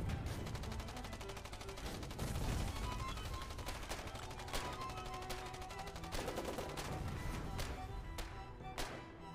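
Tank guns and rapid gunfire in the war game Foxhole, a dense run of repeated sharp shots and bursts over a constant engine rumble, loud and continuous throughout.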